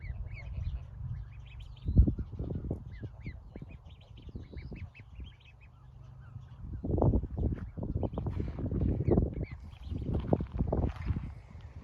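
Several ducks quack and call in bursts nearby, with low background rumble and faint chirps from smaller birds.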